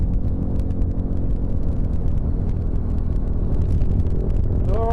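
Wind and road roar inside a motorcycle helmet at around 100 km/h, a loud, constant low rumble and rush with the engine droning underneath, rising slightly in pitch at the very end.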